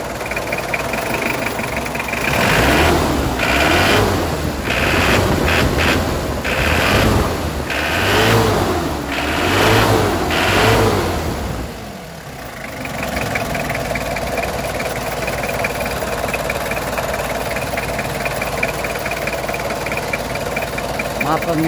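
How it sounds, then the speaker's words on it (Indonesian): A Mitsubishi Strada L200 offroad pickup's engine idles steadily up close, rising through several rhythmic revs in the first half before dropping back to a constant idle, with no talking over it. "Baik, kita langsung untuk mencoba mendengarkan suara mesinnya."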